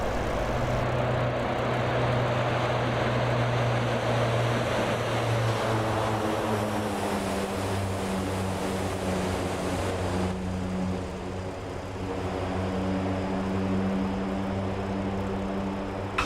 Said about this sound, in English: That looked good. It's a good landing, Undead.